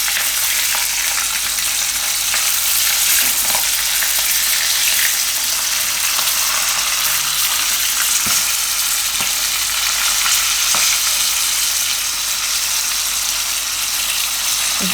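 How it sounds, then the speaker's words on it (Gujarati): Red chillies and garlic fry in hot oil while being stirred, producing a loud, steady, continuous sizzle with occasional scraping stirs, close up and alone. "તેલમાં ફેરવી લેવાનું."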